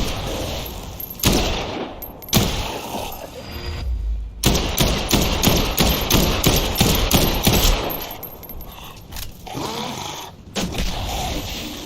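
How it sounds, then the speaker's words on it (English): Heavy gunfire during a boss fight in Dead Island 2, with long sustained automatic bursts broken by brief pauses, loud and close, layered with thumps and impact noise. "Put some more bullets into Dylan."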